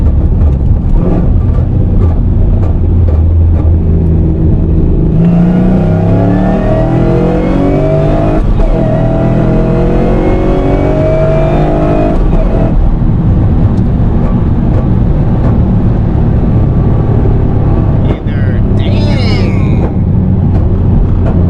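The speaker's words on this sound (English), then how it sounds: "If anybody hears that rattling sound, that's my header." A Cadillac CTS-V V8 engine rumbles and revs loudly, with a metallic exhaust header rattle buzzing through the drone and a brief higher whine near the end.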